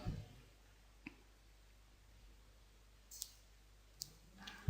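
A computer mouse clicks a few times, sharp isolated clicks spaced unevenly over a quiet, faint background.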